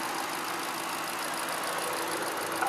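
A 2012 Ford Mustang Shelby GT500 with a 5.4-liter supercharged, intercooled V8 idles with a steady, even rumble and hiss, close and constant, with no voices.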